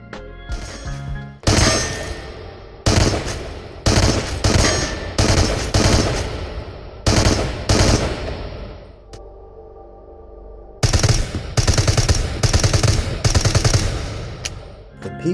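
Full-auto sidearm bursts from the game Into The Radius, several loud rapid rattling strings of shots separated by short pauses, with a quieter lull in the middle before more sustained automatic fire.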